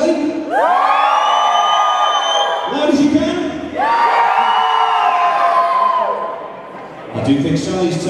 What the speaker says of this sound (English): I need your loudest cheers